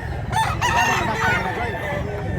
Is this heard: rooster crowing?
yes